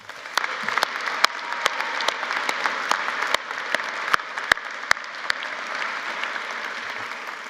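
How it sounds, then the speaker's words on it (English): Steady, dense applause from a large audience at a university winter commencement ceremony, sustained across the whole stretch with sharp individual claps popping out of the wash, no talk over it. "Let's give them all a round of applause."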